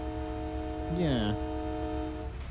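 A vehicle horn in the American Truck Simulator game sounds once, a short tonal blare with a falling pitch over a constant engine hum and low drone.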